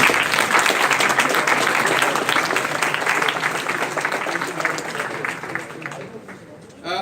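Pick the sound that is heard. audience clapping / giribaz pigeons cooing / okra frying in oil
audience clapping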